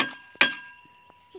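A sharp metallic clink of a blade striking a hard target in a horror video game, like a crowbar hitting, one loud impact with a ringing tail and a few faint knocks after.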